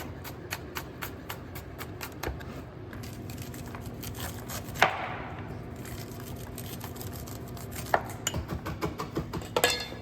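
Garlic chopped with a knife on a cutting board gives a steady run of quick, close taps, with a few louder knocks standing out among the rhythmic strokes.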